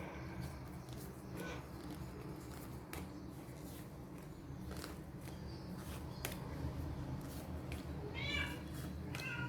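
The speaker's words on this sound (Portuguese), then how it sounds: "Tô rindo do meu gato miando ali fora." A cat meows outdoors, faint and distant, several short calls scattered through a soft background with light rustling, including a clearer drawn-out meow near the end.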